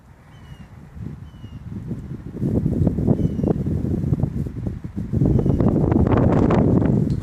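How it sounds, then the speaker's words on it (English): A strong gust of wind sweeps across an outdoor football field during kicking practice, building from a low rumble into a loud, sustained roar of microphone buffeting that surges again toward the end, with no speech. "Oh, huge gust of wind."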